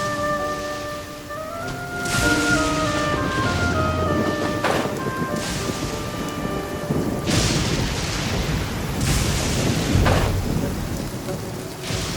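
Thunder crashes repeatedly over steady rain in the Genshin Impact video game, the booming strikes recurring every few seconds, with a soft melodic tone fading out early on.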